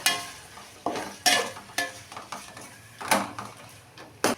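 A spatula scrapes and clatters against a metal pan in irregular strokes while ginger garlic paste sizzles steadily underneath.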